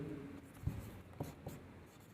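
Pen writing on paper: scratchy strokes with a few sharper taps, close and quiet over a faint room hiss, no speech.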